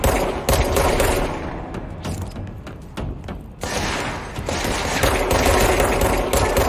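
Video game gunfire comes in rapid automatic bursts with heavy thuds, loud and dense, pausing briefly in the middle before the firing resumes, with no voices.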